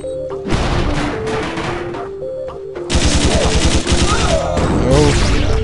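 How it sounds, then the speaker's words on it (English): Machine gun in the platform game Iji firing in long rapid bursts, loud and close, with a steady stuttering rhythm over synth background music and a brief pause between volleys. "Let's go ahead and upgrade Tassin so I can get this machine gun."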